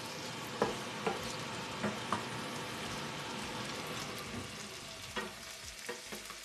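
Shrimp fry in a pan with a steady, moderately quiet sizzle, punctuated by several sharp spattering pops and occasional utensil taps, with no voices.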